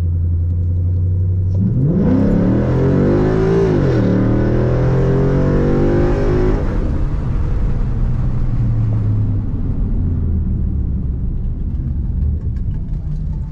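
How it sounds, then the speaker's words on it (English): A 2011 Mustang GT fitted with a Roush axle-back exhaust accelerates hard in drive, its loud engine roar climbing through a gear change before settling into a steady rumbling cruise, with no talking over it. "I'm gonna keep it in regular drive, and we're gonna do a pull in drive, no select shift."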